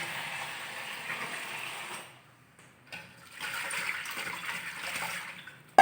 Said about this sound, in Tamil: ஒரு தடவைக்கு ஒரு ரெண்டு தடவை தண்ணி ஊற்றி அலசி வடிகட்டிடணும்